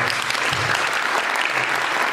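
Sustained audience applause in a hall at a French grande école ceremony, honouring students' families; dense, steady clapping from a large crowd throughout, with no speech over it.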